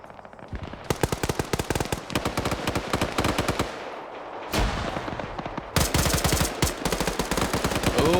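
Rapid automatic rifle fire from FAMAS and 5.56 rifles in a video game firefight, with dense, loud bursts of sharp shots that come in waves with brief gaps between them.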